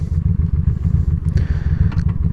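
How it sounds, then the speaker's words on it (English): Motorcycle idling with the left clutch lever pulled in and shifted down into first gear, giving a brief mechanical click over a loud, steady, low engine rumble. "can feel that click and you can hear that click. That's first gear."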